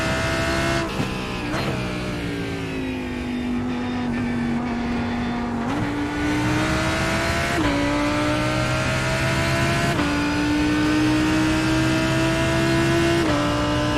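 A carbon fiber Audi race car in a NASCAR racing game at Chicago runs at full throttle, its engine droning loud and steady and climbing in pitch through a series of upshifts marked by brief dips.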